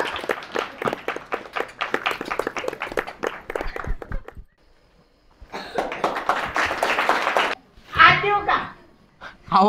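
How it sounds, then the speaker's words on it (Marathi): Dense bursts of clapping and applause break out after a stretch of lively talk, followed by a short noisy burst with a voice near the end. "जोरदार टाळ्या, जोरदार टाळ्या"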